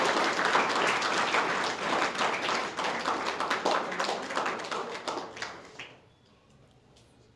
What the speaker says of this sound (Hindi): तो जोरदार तालियां इनके